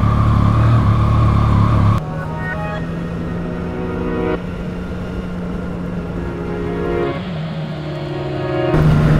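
A Yamaha MT-09 motorcycle hums along at a steady cruise, its engine drone holding an even pitch with brief shifts in tone, heard close and continuous with wind rush underneath.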